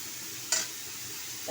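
Ridge gourd strips frying in a wok get a quick stir, a soft steady sizzle with one sharp scrape of the spatula and a second starting at the end, no voices.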